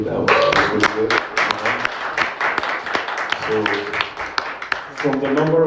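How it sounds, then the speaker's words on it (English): Applause from a church congregation in Auckland, steady clapping under a voice that keeps speaking over it, with a few louder bursts near the end. "Another round of applause for Andrew."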